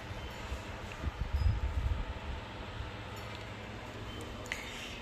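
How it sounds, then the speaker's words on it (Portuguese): Wind gusting through an open kitchen window, a low rumbling buffet that swells loudest in the first two seconds then settles into a steady breezy rush, with no talking. "Olha como tá o vento, olha."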